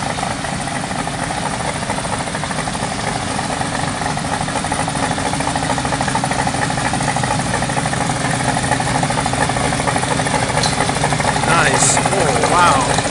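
A motorbike engine runs steadily at a low, throbbing idle, loud and close throughout, with a slight rise near the end.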